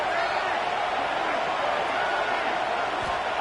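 A stadium crowd roars steadily at a college football game, a dense, constant wash of noise from many voices under an announcer's commentary.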